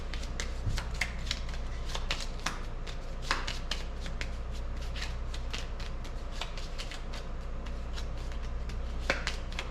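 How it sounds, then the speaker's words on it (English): Rapid riffling of a deck of playing cards being shuffled during a tank duel board game, repeated crisp bursts over a steady low hum, close and fairly quiet. "I forgot I had to shuffle that deck"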